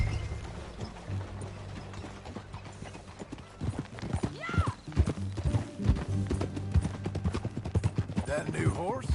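Rhythmic clip-clop of a ridden horse's hooves in a video game, steady and fairly close, with a neigh or whinny and mechanical clicks in between, and voices speaking over the later part.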